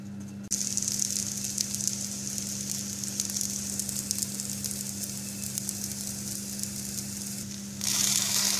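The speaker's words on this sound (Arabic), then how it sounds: "شويه ديال الزيت، ناخذ مغرف من الخليط، نوضعوه بهذا الشكل هذا" Msemen batter ladled into an oiled pan sizzles steadily and close, a continuous frying hiss that swells into a louder burst near the end.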